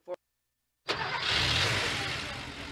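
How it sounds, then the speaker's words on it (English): A car engine running on Castrol Edge oil catches after a brief click and settles into a steady, loud running roar that eases off slightly toward the end. "That's the sound of an engine running on the strength of Castrol Edge."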